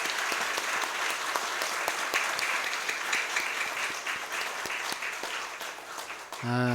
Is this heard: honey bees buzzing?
no